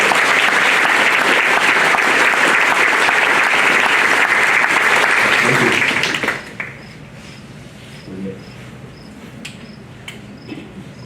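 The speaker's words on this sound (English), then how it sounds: "let's give these young men and women a round of applause" Loud, dense applause fills a hall at a cooperative's annual meeting for young students headed to the South Dakota School of Mines and Technology, then stops abruptly and leaves faint room noise and scattered small sounds.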